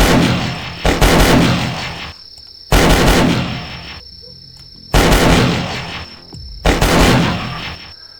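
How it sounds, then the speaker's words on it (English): Gunfire in the video game The Last Stand, four loud, evenly spaced shots, each a sharp crack followed by a ringing decay, with quieter gaps between them. "Am I the only one shooting?"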